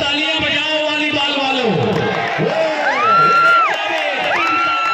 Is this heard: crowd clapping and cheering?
yes